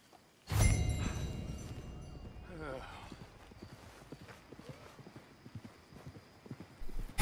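Hooves clip-clop at a steady trotting pace in Red Dead Redemption 2 after a loud opening burst, with a continuous rumble underneath and no talking.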